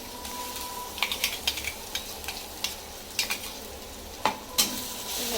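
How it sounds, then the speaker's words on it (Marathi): A paste of coriander, ginger, garlic and green chilli sautés in hot oil, a soft steady sizzle broken by a dozen or so sharp scraping taps of a spatula against the pan. "ह्याला पण असं तेलामध्ये परतून घेते"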